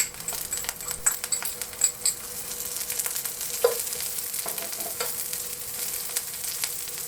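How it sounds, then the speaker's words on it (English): Savory pancake ingredients frying in sesame oil in a pan on a boat, a bright, steady sizzle with scattered ticks and taps from the utensil. Close and constant, with no talk. "Fry it in sesame oil to get that Asian taste."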